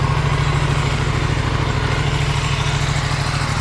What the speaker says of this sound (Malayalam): പ്രോപ്പർ V-twin ക്യാരക്ടറാണ് കേട്ടോ.